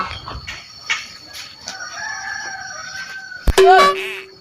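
A chicken and rooster cluck and crow, the birds heard amid scattered talk and background noise, with a sharp loud crow near the end.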